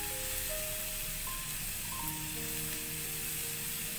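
Grated coconut with ginger and garlic roasts in a pan for a Marathi vegetable dish, giving a steady, even sizzle and hiss close by with no voices.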